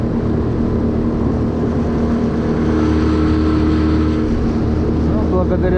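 An outboard motorboat fitted with a ski planes along a river and skims over a shallow riffle, its engine a loud, continuous close-up drone with roaring water that swells slightly toward the end.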